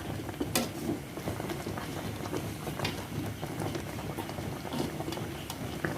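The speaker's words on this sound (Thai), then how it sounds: "เดี๋ยวเราต้มจนสุกนะ" A horseshoe crab boils in a pot, cooked for a spicy egg salad. The steady, close bubbling simmer has rattling and ticking clicks and runs continuously with no talk.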